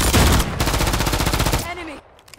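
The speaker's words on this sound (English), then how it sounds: "Taking effective fire!" Loud, rapid automatic gunfire in a video game, a close machine-gun burst of evenly spaced shots that cuts off abruptly, followed by a brief voice.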